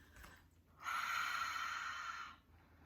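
Ujjayi yoga breathing drawn through the nose with the mouth closed gives a steady, hushed, ocean-like rasp that lasts about a second and a half, close and quiet, with no talking over it.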